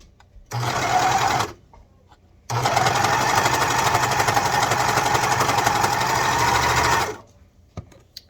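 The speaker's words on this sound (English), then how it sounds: "I'm going to serge this edge real quick" A serger stitches the edge of a shirt waistband in two bursts, a short run of about a second, then a pause and a longer steady run of roughly four and a half seconds, loud and close.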